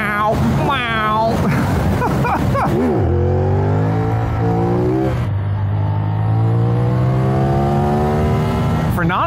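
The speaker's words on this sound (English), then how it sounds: "This engine likes to be opened up." CFMOTO 450NK motorcycle engine revving hard, rising and falling pitch sweeps as the throttle is opened and gears change, loud and close with wind noise throughout.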